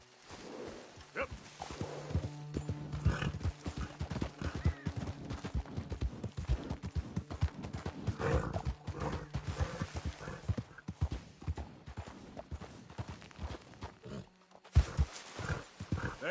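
Horse hooves clip-clop in Red Dead Redemption in a continuous brisk rhythm of close knocks, with a voice speaking briefly and a short neigh-like tone early on.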